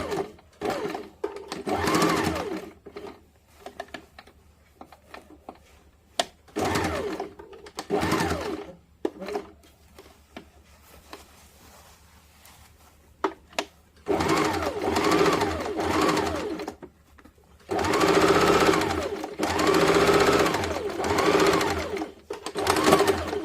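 A sewing machine stitching a princess cut blouse runs in repeated loud bursts of rapid mechanical whirring, separated by short quiet pauses, close by.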